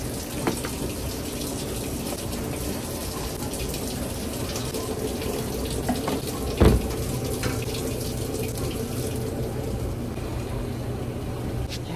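Tap running steadily into a sink while items are washed underneath, a continuous rushing water sound with a brief clunk partway through.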